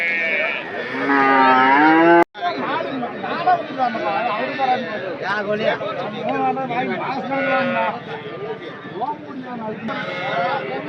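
Cattle at a livestock market in Anthiyur low and moo loudly and repeatedly, close by, over a dense background of traders chattering and bargaining.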